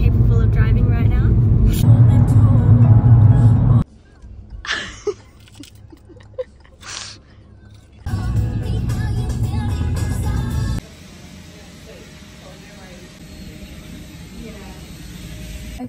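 A car cruising along a coastal road, steady low engine and road rumble from inside the cabin, broken by cuts to quieter stretches and hissy noise, with people talking over it.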